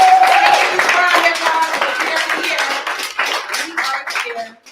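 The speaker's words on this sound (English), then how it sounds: "Round of applause." Applause from an audience at a hip hop anniversary and Juneteenth celebration, a steady wash of clapping that fades toward the end, with a voice talking faintly through it.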